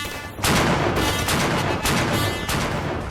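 More than a thousand cannon booming along the River Thames near the Tower of London in a coronation-eve salute: loud repeated blasts in a rolling volley, each boom running into the next amid continuous rumble.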